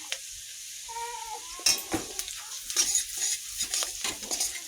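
Onions fry in oil in a wok with two bay leaves and turmeric for a carrot and lentil dish, with a soft sizzle under frequent close stirring scrapes and clinks, plus a brief high tonal squeak early on.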